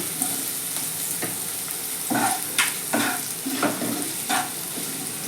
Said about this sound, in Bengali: এবার আমি গাজর কুচিটা দিয়ে দিচ্ছি